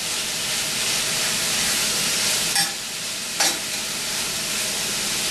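Ground turkey browns in a pan with a steady, loud sizzle and frying hiss throughout, broken by two brief scraping stirs.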